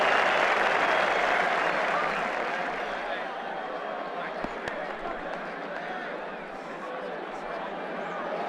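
Crowd applause from the Brian Lara 07 cricket video game, a match of India versus New Zealand, swelling as a steady loud wash of clapping and cheering, then easing slightly over a sustained roar with no talk.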